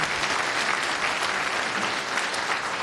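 Dense, even applause from a conference audience welcoming a speaker on AI image search with Go and TensorFlow, many hands clapping steadily for the whole stretch.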